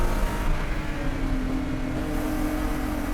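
A race car accelerates on the Sam Posey Straight at Lime Rock Park during a Gridlife GLTC race. Its engine gives a loud, steady, close-up drone with no speech.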